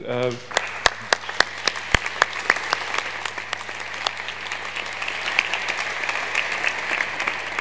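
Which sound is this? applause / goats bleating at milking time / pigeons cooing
applause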